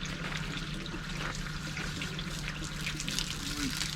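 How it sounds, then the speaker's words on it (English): Yellow dechlorinator liquid from a koi pond dechlorinator system is poured out in a steady, continuous watery splash that runs for a few seconds at moderate level with no pauses. "So I'm going to dump this yellow stuff out."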